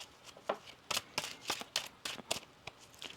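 A deck of tarot cards being shuffled by hand at a reading, giving quick crisp riffling bursts about every half second, fairly close and loud with no talking.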